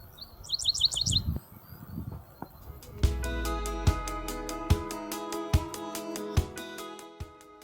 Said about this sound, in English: Who is calling in the background? It's the dickcissel.